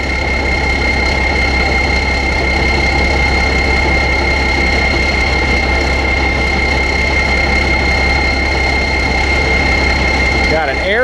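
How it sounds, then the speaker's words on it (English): A Deutz-Allis 9190 4WD tractor with an air-cooled diesel engine idles loudly and steadily nearby, a constant low rumble with sustained tonal whine running throughout. "Got an air-cooled engine."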